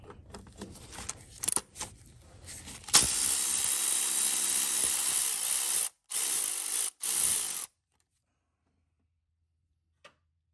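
Ratchet loosening 12 mm nuts on a Chevrolet Aveo exhaust bracket during catalytic converter replacement: a few short clicks, then a long steady loud metallic whir broken by brief pauses, ending abruptly with a faint tick after silence.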